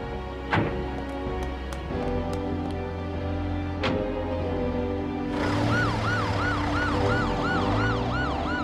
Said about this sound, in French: ça ferait déjà longtemps qu'ils auraient attaqué l'ambulance.